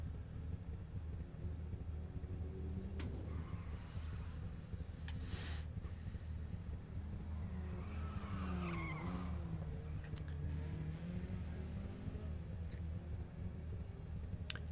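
Race cars in the Forza video game circling the Catalunya circuit during practice, a continuous engine drone with tire squeal and passing cars rising and falling, plus faint periodic beeps.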